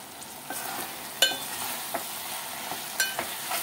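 A brinjal, prawn and egg curry with coriander is stirred in a hot pan: a soft sizzle runs underneath while several sharp spoon clinks and scrapes land at irregular intervals.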